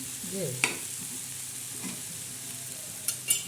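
Wild rann pathri greens fry in a pan with onion and garlic-chili paste, a steady soft sizzle broken by a few clinks and scrapes of the stirring spoon.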